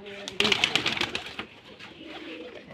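Giribaz pigeons in a loft give a quick run of bright, repeated calls early on, then softer cooing and stirring that carries under someone talking nearby.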